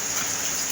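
Steady outdoor rain hisses down over an open-air cooking area with a stove, a dense, even wash of falling drops with no voices, close and continuous throughout.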